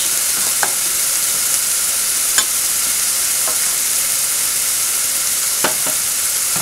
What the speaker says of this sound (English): the sofrito has to fry a little bit